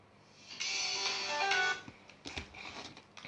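A phone ringtone plays a short melodic burst, fairly close and clear, followed by a few softer ringing notes before it cuts off.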